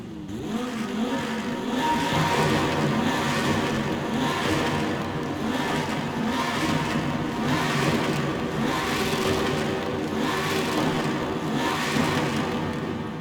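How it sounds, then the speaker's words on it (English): An Italian exotic car in Forza Horizon 5 revs while parked, its engine droning steadily and loudly and surging in repeated rhythmic pulses with crackle, with no other sounds. "I'm gonna just park up in the middle and start revving it a little bit."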